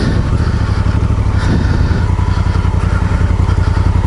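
Honda Africa Twin motorcycle engine running steadily and close while riding loose, rocky dirt trails, with a continuous throbbing low rumble and a brief throttle surge near the middle.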